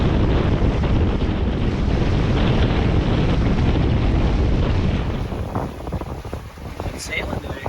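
Steady broadband wind roar buffets the microphone aboard a sailboat out on open water, loud and continuous, easing slightly near the end as faint chatter and water sounds come through.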